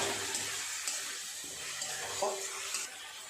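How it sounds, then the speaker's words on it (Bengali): Fried potatoes being stirred and sautéed with spices in a pan for a Bengali flour-ball vegetable curry, with a steady soft sizzle and occasional scraping stirs throughout. "আলুর সাথে মশলাটা খুব ভালো করে আর একটু এরকম কষিয়ে নেবে"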